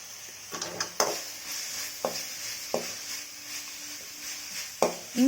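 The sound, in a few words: sautéing ginger garlic paste in a pan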